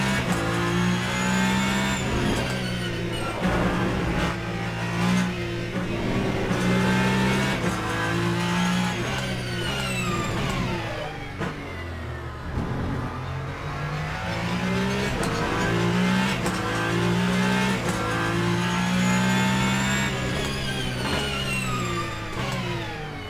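A Ferrari 499P hypercar in a racing game at Bahrain, its engine screaming loudly and steadily, pitch rising and falling through repeated gear changes and revving for the whole stretch.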